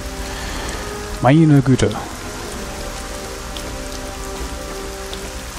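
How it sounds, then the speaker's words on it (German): Steady rain falls continuously in the fantasy video game Arcania, a dense, even patter that fills the whole stretch, with someone briefly speaking over it. "Natürlich, jetzt fängt es wieder an zu regnen."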